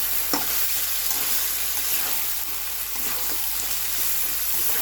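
Chicken curry with green chillies and water taro fries in a pan with a steady close hiss, and a few soft stirring scrapes sound over the sizzle.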